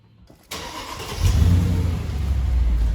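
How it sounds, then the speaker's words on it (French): A car on its stock exhaust cranks briefly with a sharp start, then catches and settles into a deep, loud idle rumble with a slight rev, close by and without voices. "Allez, on va la démarrer juste comme ça. Là, elle est en échappement d'origine."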